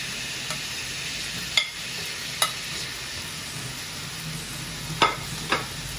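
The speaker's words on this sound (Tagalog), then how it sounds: "Haluin lang natin hanggang sa mag-caramelize." Garlic and onion sizzle steadily in a pan over low heat while being stirred, with a few sharp scrapes and clicks of the utensil against the pan standing out from the constant frying hiss.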